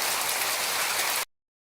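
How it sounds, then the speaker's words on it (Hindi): Heavy torrential rain pours in a dense, even hiss of countless drops striking a surface, loud and close, then cuts off abruptly after about a second with nothing else heard. "आज अचानक से मूसलाधार बारिश शुरू हो गई थी।"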